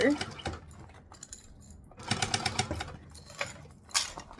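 A sewing machine stitches binding around the curve of a small bag in short bursts of rapid mechanical clatter separated by pauses and quieter handling noises.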